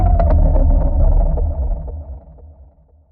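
A processed creature vocal run through a heavy, deep-fried distortion preset and a driver: a loud, gritty low growl with crackling bursts that fades away over about three seconds, with no speech.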